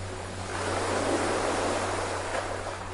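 Sea waves wash in a steady, continuous roar of surf, swelling slightly in the middle and holding even throughout, with a low constant hum underneath and no voices.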